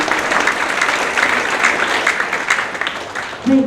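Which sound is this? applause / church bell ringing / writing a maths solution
applause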